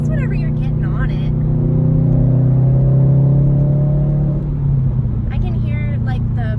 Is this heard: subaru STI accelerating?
yes